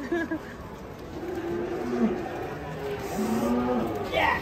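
A cow moos in several long, low drawn-out calls, loud and fairly near, over an outdoor rustle with some people chattering in the background.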